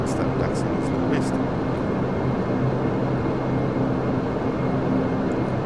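Majestic Dash 8 Q400 turboprop engines idling while the aircraft taxis in a flight simulator, a steady, unbroken drone with a low tonal hum that stays at an even loudness throughout.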